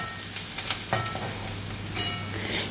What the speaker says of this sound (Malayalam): കറിവേപ്പില, അതിട്ടു വീണ്ടും ഇളക്കാം